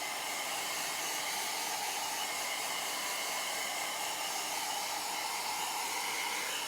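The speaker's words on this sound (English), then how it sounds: "I am going to take my little dryer and dry it" A small handheld craft dryer blowing steadily on chalk paste, a constant loud whooshing hiss with no pauses from start to finish.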